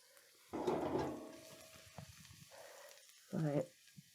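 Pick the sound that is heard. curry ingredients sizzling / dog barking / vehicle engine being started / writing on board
curry ingredients sizzling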